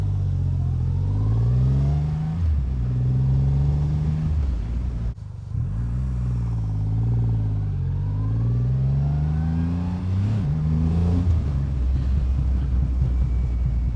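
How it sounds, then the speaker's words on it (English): A 2024 Triumph Rocket 3 GT Storm motorcycle on its stock exhaust revs and accelerates, giving a loud, close, continuous engine drone that rises and falls in pitch through gear changes, with no talking. "Got a nice gurgle to the exhaust when it's completely stock, so stock exhaust and everything"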